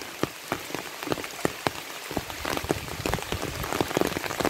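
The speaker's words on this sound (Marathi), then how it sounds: "असा सुंदर पडतोय." Rain falling outdoors along a road near a village mini dam, a steady hiss with individual drops pattering close by at an irregular rhythm, growing slightly heavier toward the end.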